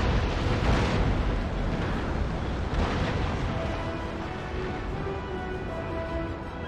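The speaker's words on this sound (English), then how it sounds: "my flagship actually will be taking the brunt of the fire from all of these ships" Naval cannon broadside in Empire: Total War, with galleons firing on a flagship: a loud, rumbling wash of overlapping booms that swells in the first seconds and then settles into a long, churning roar.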